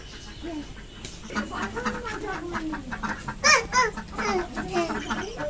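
Domestic ducks being let out of their pen in the morning give repeated close, nasal quacks and clucking calls, clustered loudest in the middle and again near the end.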